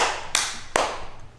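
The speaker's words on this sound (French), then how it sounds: "C'était un tonnerre d'applaudissements pour ton échec." A couple of sharp hand claps, two distinct slaps spaced under a second apart, standing out against a quiet room with faint background noise.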